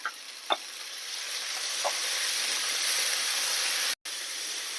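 Chopped onion and tomato sauté in a pan as the base for a broccoli and corn soup, giving a steady close sizzle with a few sharp spoon clicks and one brief dropout near the end.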